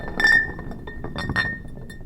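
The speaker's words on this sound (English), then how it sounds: "An empty bottle rolled away from the door through the hallway. It clinked against another bottle" An empty glass bottle rolls down a hallway and clinks against another bottle, giving several bright, close glassy chinks over a low rolling rumble.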